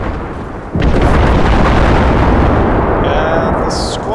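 Grenades go off in the video game Empire 2 during the Battle of London: a sudden loud blast at about 0.7 seconds, then a sustained roaring rumble.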